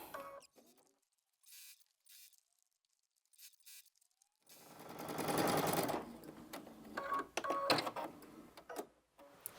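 A sewing machine tacks through a stuffed puff quilt filled with polyfill, first in short bursts, then a loud sustained run of rapid stitching around the middle, followed by more brief stitching bursts and handling.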